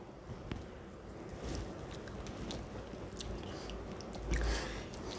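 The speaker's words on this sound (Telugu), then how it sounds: "ఇప్పుడు దీని ఒకసారి టేస్ట్ చూసుకుందాము" Someone tastes coconut yogurt chutney with raw onion, giving soft close-up chewing and mouth sounds over a faint, breathy background.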